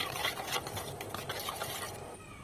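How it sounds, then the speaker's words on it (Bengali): Spice paste being stirred and mixed with salt, turmeric and a little sugar for Bengali steamed eggs (dim bhapa): a continuous close scraping and rubbing with uneven strokes, no voices. "আর একটু সামান্য চিনি মিশিয়ে নিচ্ছি"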